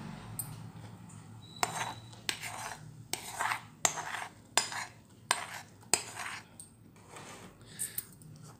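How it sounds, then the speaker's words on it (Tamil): Jaggery syrup is stirred into rice for traditional kaapparisi. A spoon scrapes and clinks against the vessel in separate, irregular strokes with quiet pauses between them, and no one speaks. "இப்போ இந்த பாகு வந்து இதில் விட்டுப்போம்."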